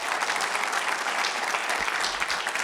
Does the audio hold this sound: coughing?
no